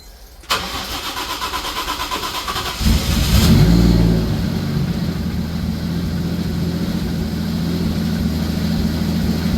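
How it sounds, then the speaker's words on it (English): A Toyota 1JZ car engine cranks for a couple of seconds, catches with a rev, then settles into a steady idle that runs on. "So we're gonna refill it and start the car."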